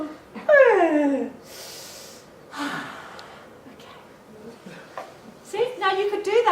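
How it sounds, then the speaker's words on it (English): A big yawn made while stretching the arms up, with long drawn breaths and a vocal, sighing exhale, near and clear, surrounded by a speaking voice and another yawning, groaning breath at the end. "So just put your arms up in the air. Have a big yawn."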